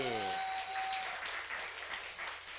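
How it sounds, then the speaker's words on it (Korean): An audience at a church talk breaks into applause, a continuous spread of clapping from many hands in a hall, moderately loud, with a brief tone fading at the start. "우리 박수 한번 쳐주셔야지"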